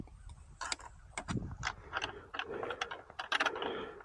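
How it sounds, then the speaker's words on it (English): A 1/4 inch ratcheting wrench turning during a weather station mount install outdoors, giving faint, quick clusters of close metallic ticks in an uneven rhythm, no talking. "Get my 1/4 wrench."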